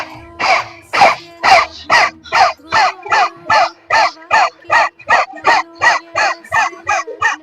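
People in a yoga class do dog-breath, forceful panting with tongues out, imitating a dog. About sixteen loud, close, evenly spaced huffs come in a steady rhythm.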